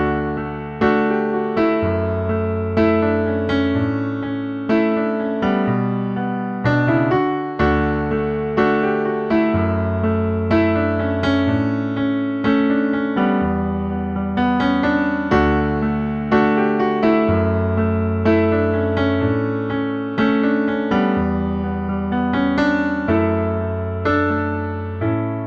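Solo piano plays a song, steady chords with a gentle melody and sustained bass notes flowing evenly and clearly throughout.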